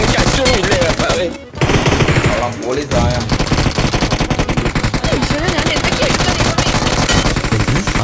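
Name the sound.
gunfire in the video game BGMI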